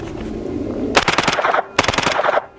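CZ Scorpion with a BFSIII binary trigger firing two rapid bursts of loud, close gunshots separated by a short gap, each burst a fast string of sharp cracks.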